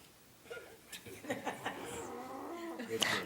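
A person imitates a reindeer call, producing strained, wailing, moan-like cries that resemble a cat in pain or a moose, with a few bursts and laughter-like sounds across a few seconds, fairly faint.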